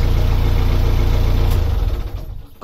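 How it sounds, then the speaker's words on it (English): A narrowboat's engine, running hot while climbing the Pocklington Canal, idles with a loud, steady, knocking rumble that eases off and quietens toward the end. "Yay. Oh my poor engine. Give it a rest."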